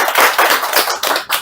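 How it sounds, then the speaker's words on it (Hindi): Lively clapping from a group of visiting distributors seated in a factory demo hall, a dense run of close, loud claps in quick uneven pulses. "सभी के लिए 2000 तालियां"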